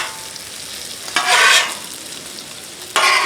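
Pulled pork hash frying on a flat top griddle, with two bursts of scraping double-spatula stirring over a soft steady sizzle, fairly close and loud.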